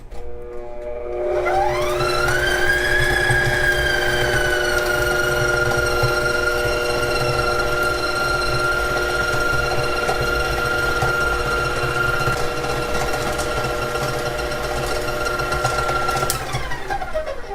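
Electric mixer beating butter on high speed for cheesecake cookies, a steady loud whine rising as it spins up, holding a sustained tone for about fifteen seconds and then cutting off.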